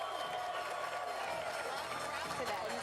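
Applause and cheering from a crowd at a NASDAQ opening bell ceremony, a dense, steady wash of clapping held at an even level throughout, with voices mixed into it.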